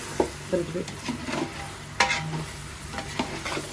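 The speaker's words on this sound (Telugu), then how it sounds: "ముక్కలు వేసుకున్నాక ఒకసారి కలిపేసుకున్నాము ముక్కలకు మసాలా పట్టే విధంగా" Fish pieces coated in masala stirred in a frying pan for a fish curry, a spoon scraping in short irregular strokes over a soft sizzle of frying, close and moderately loud with no talk.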